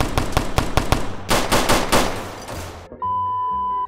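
Rapid automatic rifle fire in a Roblox game set in the Bronx rattles in fast, loud bursts, a dense volley followed by a second burst, then stops as a steady electronic tone takes over.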